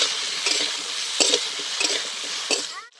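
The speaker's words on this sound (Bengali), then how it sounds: "এবার দিয়ে দিচ্ছি টমেটো। টমেটোটাও খুব ভালো করে কষিয়ে নেবো যাতে গলে যায়।" Tomatoes frying with potatoes in a pan, a steady loud sizzle broken by several scrapes and clinks as a utensil stirs the mixture, with no voices.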